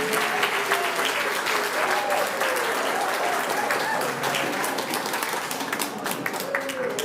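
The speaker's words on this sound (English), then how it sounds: "Can we have a round of applause for our wonderful literal people?" Sustained audience applause at a quiz competition grand final, a dense, steady wash of many hands clapping that fills the whole stretch, with voices mixed in underneath.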